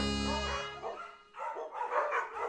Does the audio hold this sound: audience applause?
no